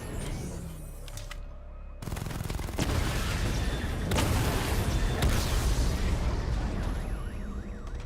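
A dense barrage of weapon fire and explosions destroying targets in a Batman Arkham Knight combat simulation, with rapid bursts and booms layered into a loud, continuous roar after a brief quieter start.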